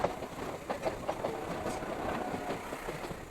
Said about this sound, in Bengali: ইতিমধ্যে আমাদের ট্রেন খড়গপুর স্টেশন ছেড়ে বেরিয়ে এসেছে